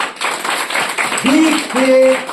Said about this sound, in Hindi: आप लोग एक जोरदार तालियां बजाइए।